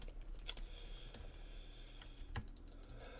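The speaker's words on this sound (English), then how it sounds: "You might hear me mash keys a little harder" Computer keyboard keys clatter under fast, irregular presses during a game, with close, quiet clicks and a few harder mashed strikes standing out, and no voice over them.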